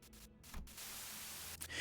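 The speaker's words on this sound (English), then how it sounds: "A sudden buzz of white noise breaks through the truck's silence." Radio white-noise static buzzes on and off inside a truck, with broad hissing bursts broken by brief gaps, then settling into a steady, loud wash of noise.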